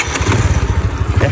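Honda Astrea motorcycle, a Grand model with new wiring and battery, cranking and catching with a loud, close, steady low engine pulse throughout, no talking.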